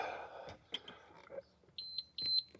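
Two short, high electronic beeps ring out in quick succession, clear and close, from a 1998 Sea-Doo GSX Limited key, following some faint handling noise.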